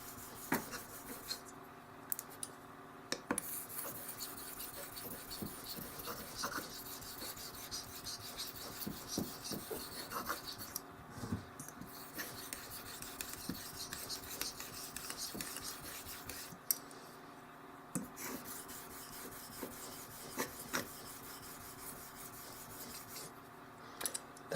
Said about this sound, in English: That's the stabilizer rubbing against the stone, side of the stone there.